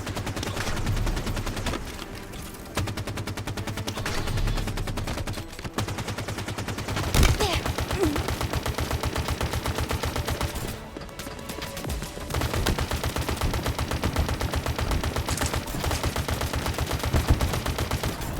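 The Spiker gun from Halo fires in a video game, with rapid repeated shots in bursts and delayed explosions, loud and close, with brief pauses between volleys.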